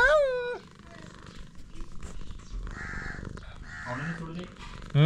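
A plump, fair-coated house cat makes sounds on a Konkan morning, with a low, rolling purr-like rumble under close, lively talking. A sharp high cry opens the sequence.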